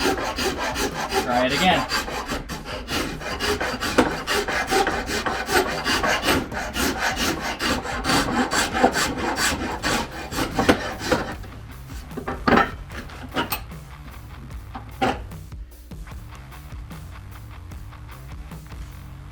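Sanding a wooden axe handle to fit the head, with steady rubbing and rasping strokes of abrasive on wood throughout, fairly close and loud, thinning into separate scrapes and knocks later; someone speaks briefly.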